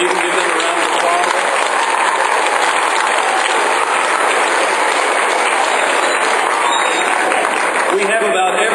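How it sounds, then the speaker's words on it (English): An audience of parents and boys applauds steadily at a church ministry gathering, a dense, even patter of clapping that holds for the whole stretch without a break. "If you can give them a round of applause."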